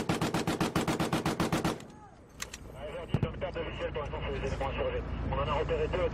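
Heavy machine gun mounted on a French Foreign Legion armored personnel carrier fires a rapid, loud, close burst of evenly spaced shots, then stops, leaving engine rumble, radio crackle and a voice speaking over the background.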